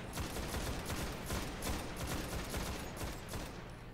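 Rapid gunfire in Destiny during a Nightfall Strike, a dense, continuous volley of shots under steady rumbling battle noise, moderately loud throughout.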